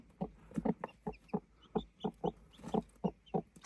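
Chickens cluck in a rural village setting, a steady series of short, close clucks about every quarter second, clear and alone with no talk.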